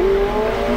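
A 2024 McLaren 750S Spider under full-throttle acceleration, its engine note rising steadily in a loud, continuous roar heard from inside the car, with no voices over it.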